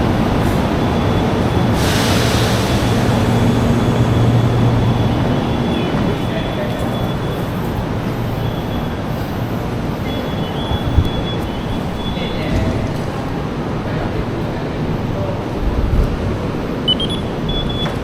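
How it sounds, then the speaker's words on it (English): A KTM commuter train at Batu Caves station in Malaysia gives a steady rumble with faint wheel squeals and a high whine, with background voices throughout. "So that is the train that I took."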